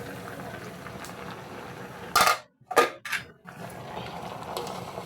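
A lid comes off a cooking pot of dried-fish curry with green chilies, giving a couple of loud close metallic clanks and scrapes, then the soft simmer of the pot continues underneath.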